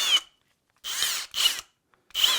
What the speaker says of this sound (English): We're just gonna sand down the head of a lag bolt.